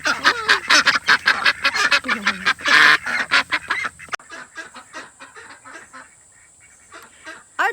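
Several ducks quack loudly and rapidly in a noisy chorus, then the calls thin out to scattered quacks.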